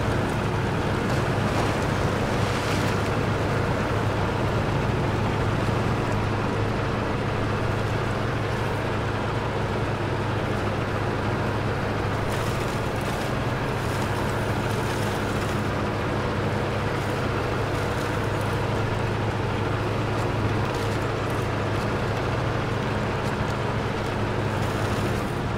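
APC truck grinding through mud and water in the SnowRunner game, a loud continuous low engine rumble with a rough, noisy wash layered over it, steady for the full stretch without pauses or voices.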